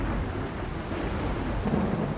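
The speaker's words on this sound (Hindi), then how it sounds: "बाहर तो बहुत तेज बारिश हो रही है" Heavy rain pours steadily outside with deep rolling thunder in a cartoon sound effect, a loud continuous wash with no voices.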